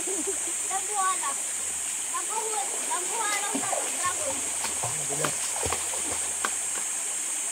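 Water rushing and splashing in a stream, a steady close wash of spray with scattered louder splashes, while people talk nearby.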